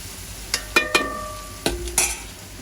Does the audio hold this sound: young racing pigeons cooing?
no